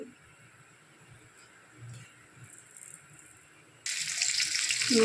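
Quiet background with faint hiss, then a sudden loud sizzle of hilsa fish frying in hot oil in a pan begins and continues strongly near the end.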